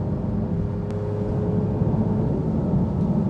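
Inside a Manthey Racing Porsche 911 GT3 cruising at 70 mph, a loud, steady low roar of road and engine noise fills the cabin, with a faint high whine and a brief tick.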